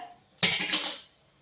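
Peanut, sesame and jaggery mixture being stirred and pressed on a plate gives a single close, brief burst of scraping and clinking lasting about half a second, then fades to quiet.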